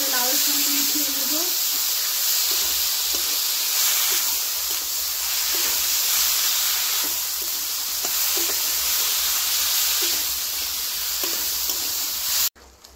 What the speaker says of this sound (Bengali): এবারে আমি এগুলো ভালো করে লাউয়ের সঙ্গে মিশিয়ে নেব।